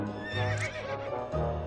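A horse in the game To The Moon neighs loudly and up close, with hooves clip-clopping beneath the whinny in a short burst.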